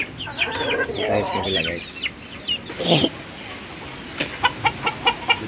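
Hens cluck and chicks peep at a backyard nest, with short clucks up close, someone speaking over them at first, and a run of evenly spaced high cheeps near the end.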